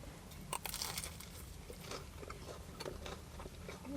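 Someone bites into a battered sausage from a fish and chip shop, giving soft close crunches and chewing sounds at a low level.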